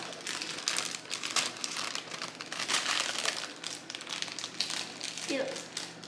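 A brownie mix package crinkles and rustles continuously close by as it is handled and opened with scissors in a home kitchen, with some speech alongside.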